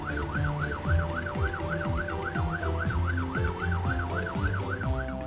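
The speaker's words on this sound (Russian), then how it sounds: "Пожарная машина включает сирену." Cartoon fire engine siren wailing in a steady, rapid up-and-down cycle, loud and close, over a bouncy music track with rhythmic percussion and light effects.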